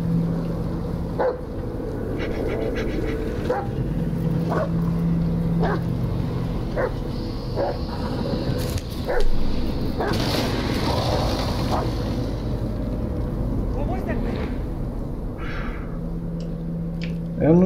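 A dog in the Blair Witch horror game gives several short barks spread through a dark, rumbling forest ambience, moderately loud over a steady low background with occasional rustling.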